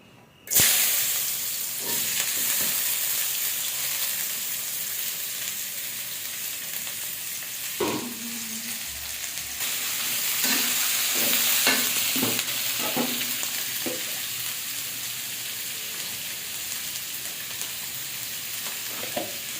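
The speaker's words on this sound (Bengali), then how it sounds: "রাতে ভাত খেতে ইচ্ছে করছে না, সবজি দিয়ে আলু ভাজি করব।" Potato bhaji with mixed vegetables fries in a pan with a steady loud sizzle and hiss, broken by scraping and clattering stirring strokes partway through, close by and without any voices.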